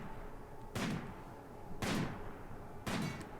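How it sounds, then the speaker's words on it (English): Three spaced, booming gunshots ring out in the colony game Rimworld as colonists fire at a crashed ship part, each blast loud with a short decaying tail over a faint background hum. "I'm just going to shoot at the crash ship part and kill that thing as we do."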